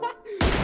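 An M24 sniper rifle in the BGMI game fires a single sharp shot that bursts in loud and close at the very end, right after a short tonal game sound.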